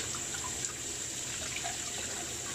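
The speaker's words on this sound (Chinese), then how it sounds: "我冲洗一下。" Tap water runs steadily over a cleaned sea cucumber being rinsed, a close, even gushing and splashing with no talk.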